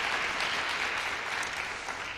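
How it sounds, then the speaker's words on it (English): Steady applause from a school speaking-contest audience, a dense wash of many hands clapping at once, sustained and even for a couple of seconds. "Let's give her a nice round of applause."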